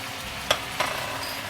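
Bell peppers stir-fry with pork in a hot pan. A steady, crackling sizzle runs throughout, broken by two quick scraping knocks of a spatula against the pan.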